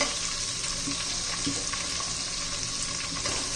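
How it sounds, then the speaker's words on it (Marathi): Grated garlic and ginger sauté in a hot pan for chicken biryani, giving a steady, close sizzle with a few soft stirring scrapes and no talking. "दोन चमचे लसूण एक चमचा आणि अद्रक एक चमचा असं किसून घेतलेला आहे मी ते छान आपण याच्यामध्ये आता परतून घेऊ"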